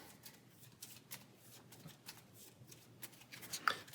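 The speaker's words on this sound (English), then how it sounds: "give them a nice shuffle" Playing cards from the Pathfinder Adventure Card Game being shuffled by hand, a soft run of quick riffling flicks and slaps, faint and close, with no talking.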